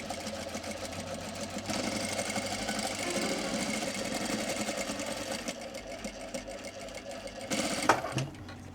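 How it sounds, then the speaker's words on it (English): A sewing machine runs steadily while stitching a close seam on fabric shorts with a short back-and-forth tack, a continuous near mechanical whir with a small bump toward the end. "we're going to stitch really close seam allowance, a little back and forth tack just to keep it in place"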